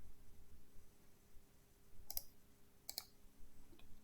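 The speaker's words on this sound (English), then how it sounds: "So all you can do is click on this link right here." Two faint, crisp computer mouse clicks about a second apart over low room hiss, followed by a softer tap, with no talking.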